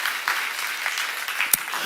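A church congregation at a seminar claps steadily, a brief wash of close, dense applause with one sharp clap standing out near the end.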